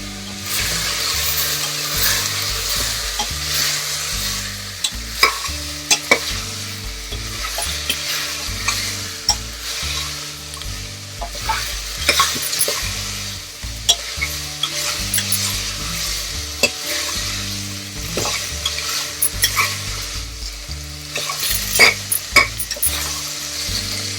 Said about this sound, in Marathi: मटणाचा थोडा कलर चेंज व्हायला पाहिजे, तोपर्यंत परतत राहायचं.